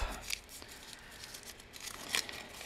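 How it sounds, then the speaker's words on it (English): Paper being crumpled by hand while making large page clusters for a journal, heard as quiet, close crinkling and tearing-like rustles with a couple of sharper crackling bursts. "So we're just gonna crumple all of these up."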